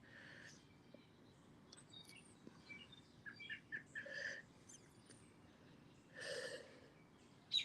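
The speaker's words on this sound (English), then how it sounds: "the birds are chirping and the sun's out" Small birds chirp faintly outdoors on a sunny day, scattered short tweets and a few brighter calls over a low background hum, fairly distant.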